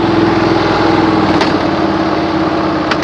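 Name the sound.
tractor engine running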